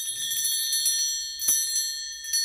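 Chocolate bells in a shop window ringing together, a bright sustained chiming with a clear strike midway and another near the end.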